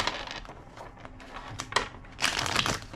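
A deck of tarot cards is shuffled near the microphone, giving dry, papery riffling bursts that swell into a louder, denser run of card flutter toward the end.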